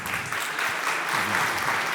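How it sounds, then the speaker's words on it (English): Audience applause after a talk on continuous delivery with Azure Web Apps at a Wrocław conference, a dense, even wash of clapping that holds steady and fairly loud throughout. "applause"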